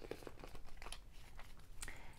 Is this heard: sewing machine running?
no